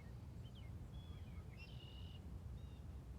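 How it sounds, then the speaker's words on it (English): Faint, scattered whistled calls from bluebirds at a playground bird feeder, several short chirps and a longer note rising over a quiet low background rumble. "I am joined by a lot of very raucous, meaning very loud and energized bluebirds."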